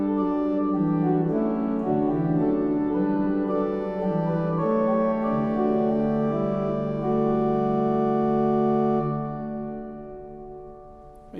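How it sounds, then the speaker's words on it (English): The Tewkesbury Abbey organ sounds its 16-foot diapason rank, pipes from the original Dalham organ of 1633, in sustained, rich notes that shift through a slow sequence before fading near the end, with no talk. "It's actually the 16-foot diapason on the grate,"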